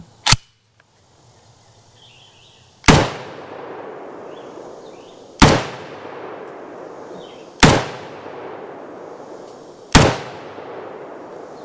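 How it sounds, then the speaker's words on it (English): Five sharp rifle shots from an IWI Galil Ace, the first alone and four more at roughly two-second intervals, each a loud close crack trailing into a long echoing decay outdoors. "Another mag through the Ace."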